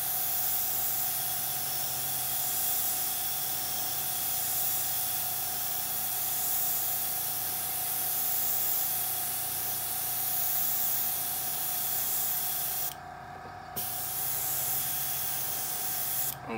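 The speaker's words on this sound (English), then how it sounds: "I'll start at the bottom and spray towards the bottom" A continuous hiss of spray paint, priming a scale model base, runs for a long stretch, steady and close, with a brief pause near the end before spraying resumes.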